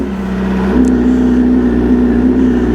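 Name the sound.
tuned BMW M1000R motorcycle engine cold start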